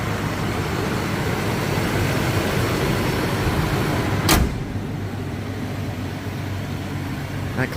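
A single solid thump as the door of a 1994 Toyota Land Cruiser FZJ80 shuts, close by and set against a steady background of engine and road noise.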